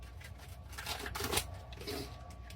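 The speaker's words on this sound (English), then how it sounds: "Let's give these a good shuffle." A deck of tarot cards is shuffled by hand in a few soft riffling bursts, quiet and close in an otherwise still room.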